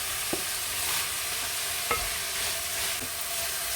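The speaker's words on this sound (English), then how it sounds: "Stir it well into the pot." Grated carrots are stirred into tomatoes and onions braising in a pot, giving a soft continuous simmer-sizzle with a few distinct scrapes of the spoon against the pot, close and fairly quiet.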